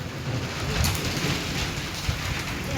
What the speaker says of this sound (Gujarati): હવે આ વરસાદે ચાલુ થઈ ગયો છે ધોધમાર